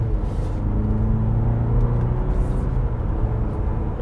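A 2020 Cadillac CT4's four-cylinder engine hums and rumbles steadily from inside the moving car, a low throaty tone rising slightly in pitch as it accelerates, with no talking.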